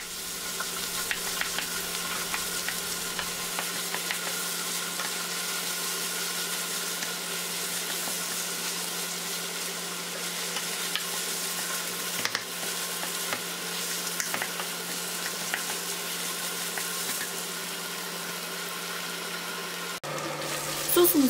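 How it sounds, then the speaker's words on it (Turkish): Red pepper paste and tomato paste sautéing in a pan for a potato skillet dish, a loud continuous sizzle with frequent stirring scrapes, a sharper clatter near the end. "Kavurmaya devam ediyorum."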